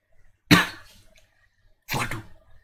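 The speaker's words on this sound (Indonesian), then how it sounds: "Waduh, batuk." Two separate coughs, one sharp and loud, the second a little softer after a short pause, each followed by a brief raspy tail, close by with no talk.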